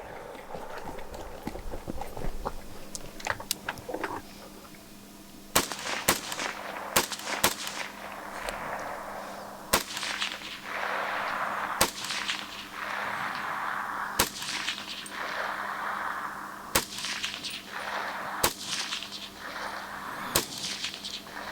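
AK rifles crack in sharp, evenly spaced single shots at a Finnish two-gun shooting competition, heard from a distance over steady background noise and wind, with no voices.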